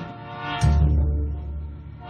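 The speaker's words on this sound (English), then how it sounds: "That's when they yelled that there was a train coming." CSX freight train with two locomotives and 37 freight cars approaching, its horn blaring in a sustained low blast that swells suddenly and holds over the rumble, heard alone without talk.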